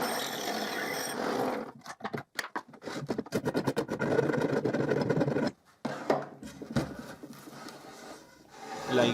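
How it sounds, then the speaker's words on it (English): Drill working into a wooden post held against a strip while cutting a notch, heard close as bursts of rasping, grinding bites with short pauses between them. "and I drill it"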